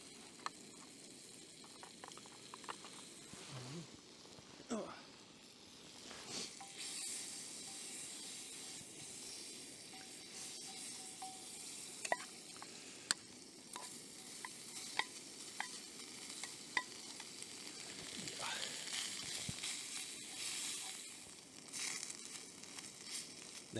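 Soy strips and noodles frying in a pan over a Soto Stormbreaker multi-fuel camp stove, a soft steady sizzle and hiss with occasional stirring scrapes and light clicks, fairly quiet and continuous.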